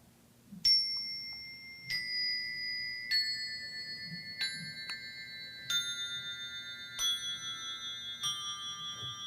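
Eight bright Montessori classroom bells ring a musical scale one after another at an even pace, each note stepping in pitch and sustaining as it fades, clear and close.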